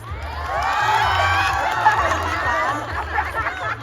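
Crowd at a Pride Divas drag show and audience lip sync battle in a mall hall, cheering and whooping steadily with busy chatter, mid-distance and fairly loud, a continuous roar with shouts rising above it.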